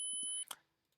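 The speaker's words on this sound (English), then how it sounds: "this is our other sort of tinnitus sound effect" Two layered tinnitus-style tones, high steady whines, ring together alone for about half a second and then cut off, leaving a soft, fading tail.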